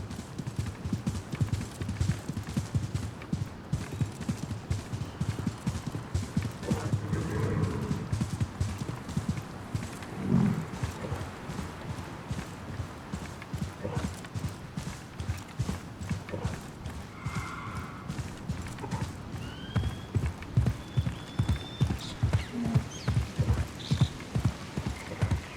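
A horse's hooves clip-clop in a steady rapid rhythm as it gallops through the Assassin's Creed Mirage video game world, loud and continuous for the whole stretch, with occasional faint background sounds and no talking.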